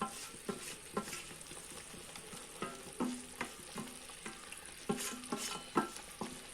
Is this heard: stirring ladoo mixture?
yes